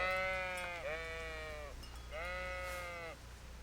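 Two drawn-out, wavering sheep bleats in a video game, fairly close and clear, separated by a short pause over a quiet background hum.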